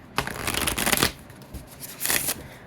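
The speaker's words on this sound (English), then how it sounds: "Let's give this a shuffle." Shuffling a deck of oracle cards with very flexible cardstock, two quick bursts of riffling close by, the first longer than the second, with a short pause between.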